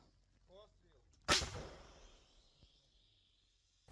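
A single artillery gun fires at a front line, a sharp, loud blast followed by a long rumbling decay and a faint distant thud afterward; a few quiet voices are heard before the shot.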